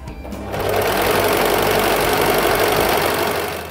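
A Brother 3534DT overlock sewing machine stitches fabric in one continuous, loud, fast mechanical whirr of rapid repetitive clatter that starts abruptly and tapers off near the end.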